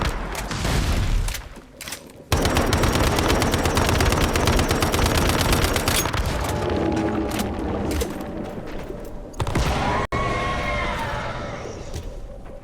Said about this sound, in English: this is with just the level 2 turrets